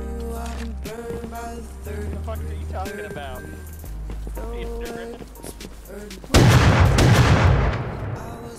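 Gunfire in the survival game Rust, a loud burst of shots erupting near the end after a stretch of talk, the blasts dense and close.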